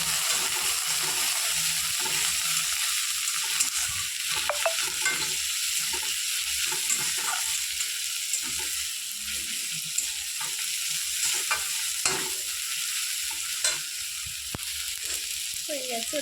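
Crushed garlic and ginger sizzling in hot oil in a pan with occasional scrapes and clicks of a spoon stirring, a steady frying hiss throughout, close and moderately quiet.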